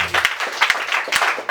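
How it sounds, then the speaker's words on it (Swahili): A church congregation claps in applause during a worship service, giving a brief, dense burst of many hands clapping at close range with no speech over it. "Makofi kwa Bwana Yesu."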